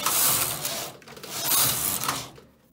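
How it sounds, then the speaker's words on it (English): A single bed knitting machine carriage knits two rows of green yarn: two loud passes of rattling, clicking mechanical swish, one after the other with a short dip between, then quiet. "I'm going to thread up my green and knit 2 rows."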